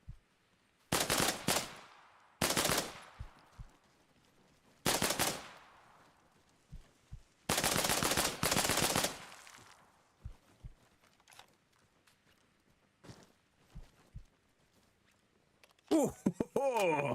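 Bursts of automatic gunfire from the military shooter Arma Reforger, several loud sustained volleys separated by short gaps and scattered single shots, followed by a sharp metallic clatter at the end.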